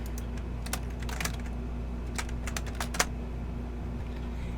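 Typing on a computer keyboard, a quiet series of irregular clicks in short bursts over a steady low hum, with one sharper keystroke standing out near the end.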